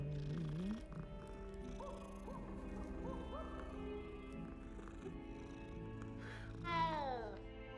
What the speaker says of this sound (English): this purring of the cat is making one so comfortable